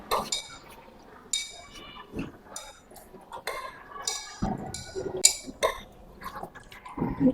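Disinfectant being mixed with lavender oil in a container makes irregular liquid sloshes and glassy clinks, quiet and close, in short uneven bursts.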